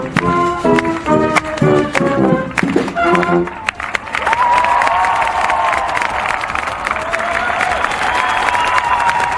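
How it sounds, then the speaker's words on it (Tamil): A crowd in Madrid claps and cheers in thanks to medical staff as a police band plays. Loud, dense applause with shouts fills the scene, with brass-like band notes breaking through at the start and a sustained tone later. "அப்போது மக்களும் அவர்களுடன் இணைந்து கைத்தட்டி தங்களது நன்றியை தெரிவித்தனர்."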